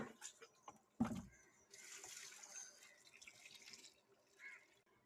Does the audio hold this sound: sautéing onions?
no